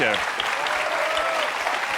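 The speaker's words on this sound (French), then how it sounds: "et des applaudissements du public" Studio audience applause on a TV quiz show fills the space as a continuous loud clatter, with a sustained musical tone gliding underneath at the start.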